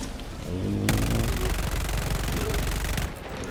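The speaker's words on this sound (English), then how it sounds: "Hey, sentries, you want to shoot at it for me?" Sentry turrets in Helldivers 2 fire sustained, loud automatic bursts at a Bile Titan, a dense rattling barrage that kicks in sharply and runs nearly unbroken to the end.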